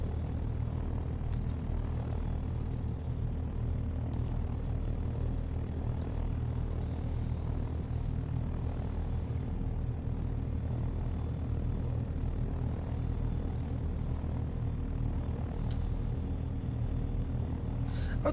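A helicopter in the flight game Take on Helicopters, heard as a steady low engine and rotor drone that holds constant and moderately loud from start to finish with no other sounds.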